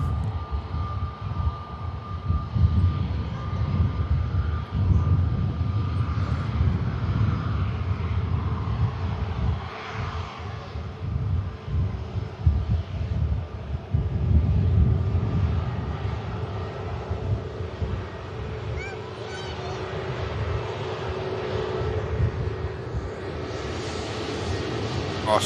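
An EgyptAir airliner at Manchester Airport gives a sustained engine roar and rumble with wind buffeting the microphone, while people chat over it.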